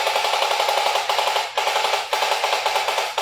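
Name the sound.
children imitating Armalite rifle gunfire while playing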